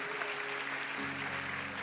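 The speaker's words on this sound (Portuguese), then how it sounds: "Uma salva de palmas aos nossos irmãos corajosos aqui." Church congregation applauding their brothers during a service, a soft, distant and continuous patter of clapping with a faint hum underneath.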